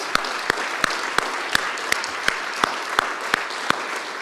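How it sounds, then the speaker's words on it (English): Applause at a climate initiative kickoff event, a soft continuous patter with one set of sharp, evenly spaced nearby claps pulsing about three times a second. "I think we can give them a round of applause."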